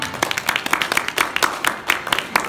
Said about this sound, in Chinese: 我们是不是给大家一个掌声的鼓励好吗？